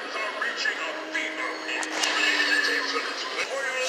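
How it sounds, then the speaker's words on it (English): Horse neigh from an animated Halloween store decoration, a steady whinny running throughout under shoppers' chatter and store background noise. "A horse."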